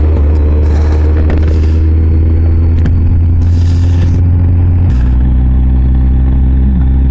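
A Kawasaki ZZR 1400 motorcycle engine runs loud and close with a deep steady drone, broken by bursts of wind noise and a clear drop in pitch partway through as it shifts.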